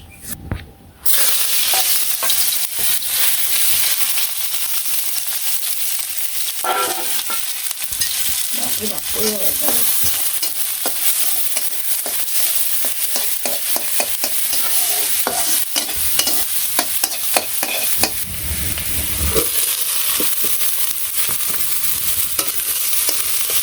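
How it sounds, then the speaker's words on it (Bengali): Vegetables fry in a pan in a village kitchen, a continuous loud sizzle broken by frequent scraping strokes of a spatula stirring them, with no voices. "আগে ভাজিটাই ভেজে নিই।"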